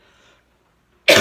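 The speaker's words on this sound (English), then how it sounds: "I swear I got rid of this cough" A single sharp, loud cough bursts out at the very end, after a near-silent pause, from a person with a lingering month-long cough.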